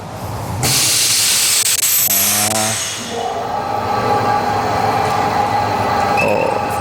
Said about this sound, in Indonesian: Ini lagi ada yang proses vakum.